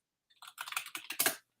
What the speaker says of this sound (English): Oh, that keyboard sound.